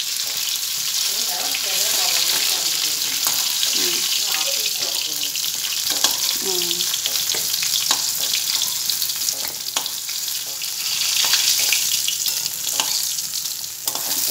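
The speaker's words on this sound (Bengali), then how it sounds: "এই চিলি চিকেনের এগুলো ভাজা হচ্ছে, ক্যাপসিকাম পেঁয়াজ রসুন একটু হালকা করে ভেজে নেওয়া হবে কম আঁচে।" Capsicum, onion and garlic fry gently over low heat for chilli chicken, a steady broadband sizzle running throughout with scattered stirring scrapes and clinks, close and fairly loud.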